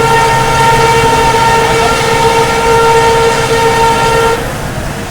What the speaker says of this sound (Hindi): सामने से आने वाली train number 2242 Salasar superfast express Jodhpur Delhi से बैरोला सालासर सुपरफास्ट